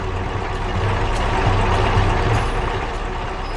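A truck rolls toward railway tracks in a 3D animation: a steady, loud engine drone and road noise with a faint hiss of air brakes, and no voices.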